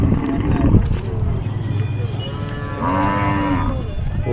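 A cow moos loudly and close by at a native cattle market in Kannapuram, a long low call followed by a second, higher bellow.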